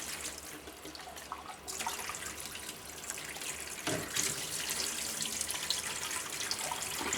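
Stewed tomatoes are rinsed in their can under a running kitchen tap, a continuous hiss and splash of water that swells louder partway through, with no talking.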